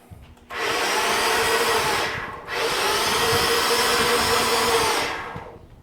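A portable electric hoist winch motor runs in two steady, loud whirring bursts with a brief pause between them, no talking over it.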